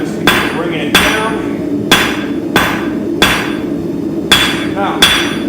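Hammer blows on hot metal at a forge as a taper is drawn out, with sharp ringing strikes falling at a steady rhythm of roughly one every second, loud and close.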